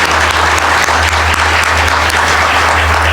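Sustained applause from a school board audience at a tenure recognition meeting, dense and steady throughout with a constant low hum underneath and no pause.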